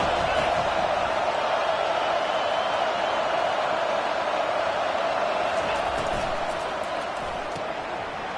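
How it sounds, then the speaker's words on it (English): A packed stadium crowd at a college football game between Florida and Texas roars continuously and very loudly, a dense, unbroken wall of cheering that fades slightly near the end. "This crowd bringing an ear-splitting welcome to their visitors."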